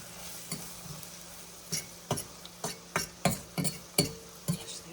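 All-purpose flour cooks in a pan with a steady low sizzle, punctuated by about ten sharp, evenly spaced scrapes and clinks of stirring, close by and with no voices.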